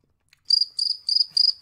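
A cricket in a room gives four quick, bright, close chirps in an even rhythm, each a short trilled burst, with near silence between them and no voices.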